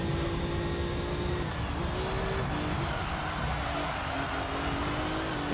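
A Subaru Impreza engine in the racing game Gran Turismo 3 holds a steady, loud drone with a held pitch that dips briefly and rises again, continuous throughout with no talking.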